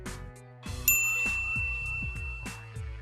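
A bright notification bell rings out once, a clear ringing ding that lingers over a light, plucked musical backing of repeating short notes.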